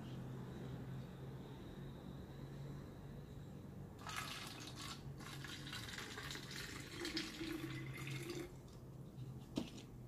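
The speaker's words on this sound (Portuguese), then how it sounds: "Se eu coloco água nessa garrafa," Water runs from a tap, splashing and filling an empty bottle for a few seconds, then stops, with faint drips and a low steady hum behind it.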